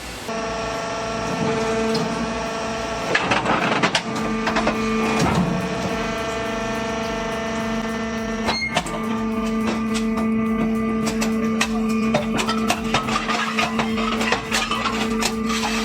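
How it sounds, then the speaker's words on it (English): A metal crushing machine compresses scrap metal and steel bars with a loud, continuous mechanical grinding and droning hum, broken by sharp clanks and a heavy knock partway through. "These machines are operating at full capacity, crushing and compressing metal scrap and steel bars into small fragments."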